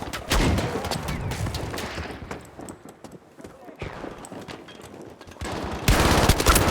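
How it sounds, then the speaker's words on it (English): An MG42 machine gun fires in a Battlefield 5 match, loud sustained bursts mixed with game noise and explosions, with the bursts returning heavily near the end. "MG42. It's actually pretty good on this map"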